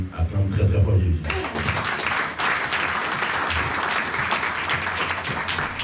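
A church congregation breaks into loud, sustained applause and cheering that swells after a brief lull and fills the room, with voices mixed into the clapping.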